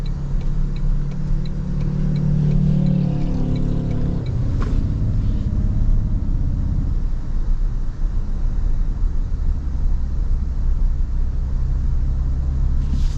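A 2026 Toyota Tundra Platinum pickup is heard from inside the cabin under light throttle, a low, steady engine hum and road rumble that shifts in pitch partway through, with no talking.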